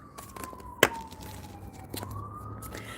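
A siren wails at a distance, its faint tone sliding down and then climbing again beneath steady background noise, with one sharp knock partway through.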